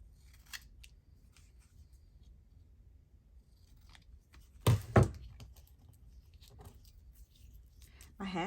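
Two quick sharp snips of scissors close by, with faint handling noises around them in an otherwise quiet room.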